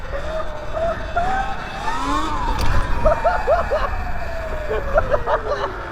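A 72V Sur Ron BAC4000 electric dirt bike with a 64-tooth sprocket and a new chain rides past, its motor whine rising and falling in pitch over a steady rolling rush, with voices now and then.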